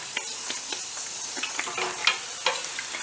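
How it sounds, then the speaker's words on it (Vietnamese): Puffed batter cakes fry in hot oil, a continuous close crackling sizzle with occasional soft stirring and pressing sounds, and no talking. "tiếp tục chiên cho nó vàng là được rồi"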